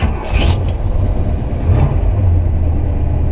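A 1979 Pontiac Trans Am starts with a short crank, catches at once and settles into a throaty idle with a quick blip of revs, recorded close with no talking.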